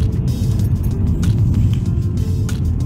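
A 2015 Hyundai Veloster driven hard, its engine giving a steady, dense low drone with road rumble throughout at constant loudness, close to the cabin and with no voices over it.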